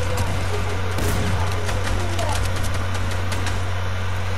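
Dense gunfire from many players crackles in a Fortnite match, a rapid scatter of shots under a steady low engine-like hum and loud game ambience, with speech over the action.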